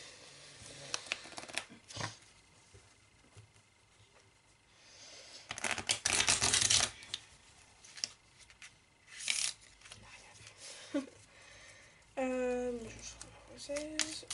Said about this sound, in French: Donc je vais pouvoir commencer à mélanger.